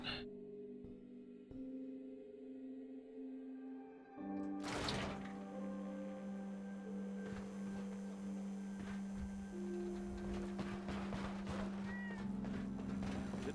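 A cat in Fallout 4 meows over a steady mechanical hum, with a few drawn-out tonal cries rising above a dense background of game ambience.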